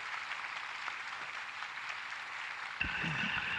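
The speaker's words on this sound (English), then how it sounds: "but I'd really like you to give Samantha a big round of applause just to show your appreciation." Steady applause from an audience after an astronaut's talk at the Farnborough Air Show, a continuous wash of clapping that swells slightly louder near the end.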